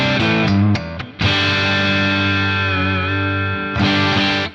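Ibanez GRGR330EX electric guitar with moderate, slightly gritty gain, loud and close: a few short strummed stabs, then a long ringing chord that sustains for seconds before a fresh strum near the end.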